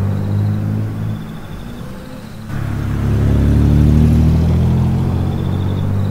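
A car moves along a jungle road at night with a low engine hum that swells into a louder, steadier rumble partway through, sustained and close, with no talk.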